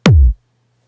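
A single punchy trance bass drum sample from Reason, a short, loud kick with a sharp click attack and a quickly falling low boom that cuts off after about a third of a second.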